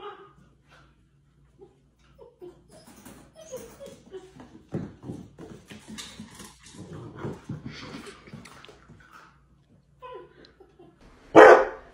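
Quiet whimpers and rustling build up, then a single loud, sharp dog bark bursts out close by at the end.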